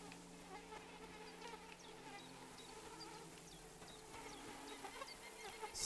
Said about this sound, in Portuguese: Só mosquitos.